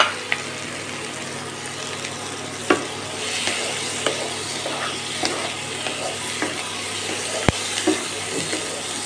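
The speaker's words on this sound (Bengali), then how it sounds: "কাজু কিশমিশটা মোটামুটি ভাজা হয়ে গেছে" Cashews and raisins frying in oil for egg pulao, a continuous close sizzle with regular scraping and clinking of a spoon stirring in the pan, plus a few sharp knocks.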